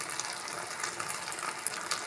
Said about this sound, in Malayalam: കുറച്ച് വെള്ളം കൂടി നമുക്ക് ആഡ് ചെയ്യാം